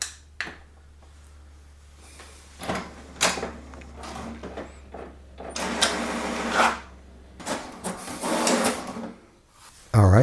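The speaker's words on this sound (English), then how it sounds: "the printer will print the password" HP DeskJet 2842e/2855e printer running a page: loud bursts of whirring feed motor and clunking paper-handling mechanics, in several uneven pulses over a steady low electrical hum, close by.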